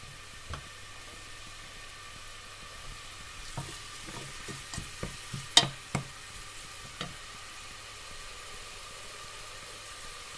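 Onions are stir-fried in a pan, a low steady sizzle broken by a series of sharp spatula scrapes and taps that cluster in the middle, then fade back to faint frying.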